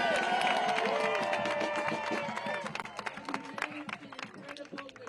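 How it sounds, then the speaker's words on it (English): Crowd at an outdoor protest march applauds and cheers for a volunteer, a dense burst of clapping and voices that starts loud and thins out into scattered claps, with chatter mixed in. "Big round of applause for Bob"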